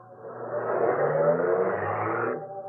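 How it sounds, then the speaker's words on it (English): Radio drama sound effect of a car driving off, an engine rising to a steady rev that holds, then eases away, loud and close with no voices. "The man got in, drove off."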